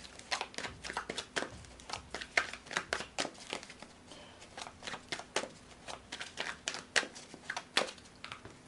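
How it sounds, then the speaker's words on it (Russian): Rapid, dry riffling of tarot cards being shuffled by hand, a continuous run of crisp papery slaps and flicks, close and fairly quiet with no talking. "Сейчас я возьму для вас отдельно карты."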